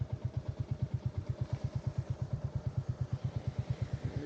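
Motorbike ridden right after a full service, its engine thumping in a fast, even, regular pulse up close, steady throughout with no talk.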